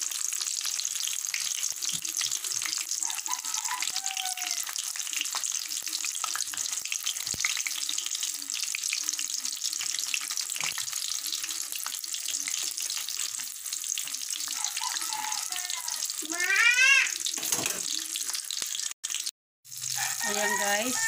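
Dynamite lumpia frying in a pan of hot oil, a steady dense sizzle that continues close and fairly loud throughout, with brief clatters and a few faint voices near the end.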